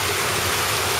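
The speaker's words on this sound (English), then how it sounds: "That's well water going to waste." Well water pumped out of the ground by a coal mine gushing out of a pipe, a loud, steady broadband rush of pouring water close by with no voices.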